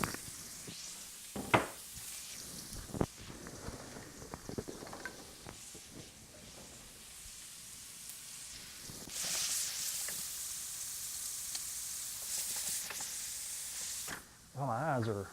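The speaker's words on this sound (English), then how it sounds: "While that's sauteing" Food sautes in a pan on a home kitchen stove, a soft sizzle that swells louder in the later part, broken by scattered knocks and utensil clatter early on, fairly quiet overall with no clear speech.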